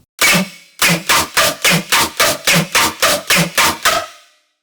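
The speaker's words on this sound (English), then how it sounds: "Classic Riddim triplets" A gritty, buzzing Serum synth bass chops out a rapid Riddim triplet rhythm, one opening stab then a run of evenly pulsing hits, loud and upfront.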